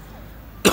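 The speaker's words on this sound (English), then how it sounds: "Are you going to cough in my face too?" A single sharp cough from a person close by bursts out suddenly at the end of a short quiet stretch.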